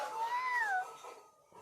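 A person imitates a cat during an animal-sounds game, giving a single close, drawn-out meow that rises and then falls before trailing off into quiet.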